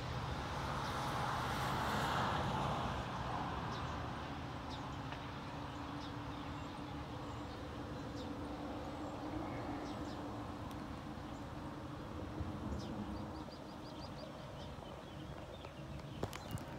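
Norfolk Southern freight train carrying high and wide Caterpillar dozers passes with a DPU locomotive working hard, a steady distant rumble and rolling rail noise with faint clicks, no talking.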